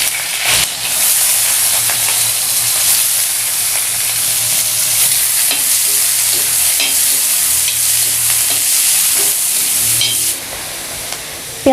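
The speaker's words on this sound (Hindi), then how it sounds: "अब डाल देते हैं प्याज और हरी मिर्च।" Chopped onion and green chilli frying in hot oil with cumin seeds, a loud, dense sizzle close up that stays constant, with faint stirring scrapes mixed in.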